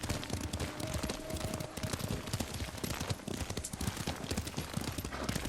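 Rapid, continuous hoofbeats of a galloping horse in Ghost of Tsushima, dense and rhythmic, close and loud throughout.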